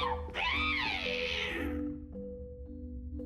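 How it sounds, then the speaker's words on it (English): A cat meows in an animated Fortnite short film, one drawn-out rising and falling meow up front that fades out, leaving a steady low hum beneath. "No, Kyo, that's a bad kitty"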